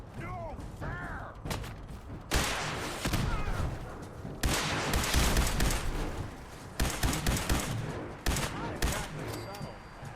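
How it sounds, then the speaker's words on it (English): Gunfire in Fallout 4 arrives in bursts of rapid shots with sudden loud volleys, several separate barrages across the stretch, with voices and mechanical clatter in between. "Who is still shooting at me and for where?"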